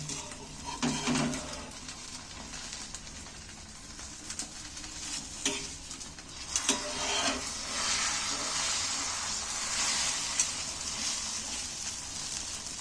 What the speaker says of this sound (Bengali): তেল দিয়ে দিচ্ছি বাদ বাকি ডিমটা ফের দিয়ে দিচ্ছি আমি একইভাবে আবার রোল করে নিচ্ছি